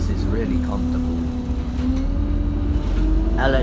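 Inside a moving city bus, a low steady engine drone and road rumble run throughout, with short hissing bursts from the air brakes and some faint nearby talk.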